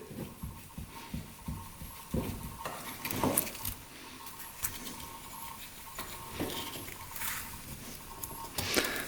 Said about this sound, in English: Just taking the razor blade. You don't wanna gouge the head at all.